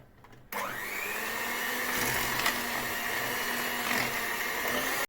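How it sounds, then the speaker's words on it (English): A steady whirring electric mixer or whisk beating cooking ingredients, starting abruptly after a brief quiet moment and running continuously, loud and close, with no talking. "I whisk 5 minutes of these ingredients."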